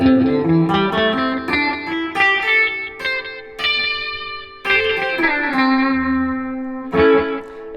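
Chicken picking on electric guitar: a pentatonic scale plucked with the fingers, giving snappy, percussive notes with sharp attacks and reverb-tinged, effects-laden tone, played alone in uneven bursts.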